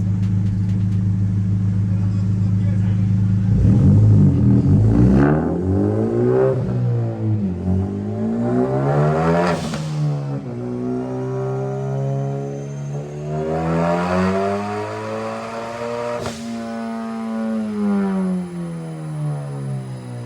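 A widebody Nissan G35 on a dyno, the engine idling, then pulling hard through a long rising rev run with gear-like steps, dropping back and climbing again, loud and close with no talk.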